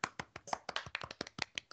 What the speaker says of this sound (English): All right. Golf clap.